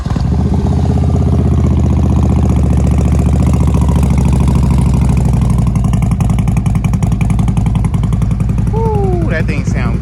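A Harley-Davidson motorcycle engine is started and settles into a loud, close, continuous rumbling idle, with a faint voice briefly over the engine near the end.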